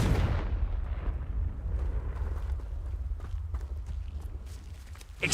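A Confringo blasting spell in a Hogwarts wizarding video game, one loud burst at the start that fades into a rumbling tail with scattered crackles and small impacts.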